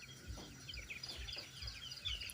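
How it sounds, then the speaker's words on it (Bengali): Colour bird chickens cluck softly in a poultry shed, a series of low repeated clucks and calls at moderate distance. "আমরা কাপড় দিয়ে মুরগিগুলো এক জায়গায় করব"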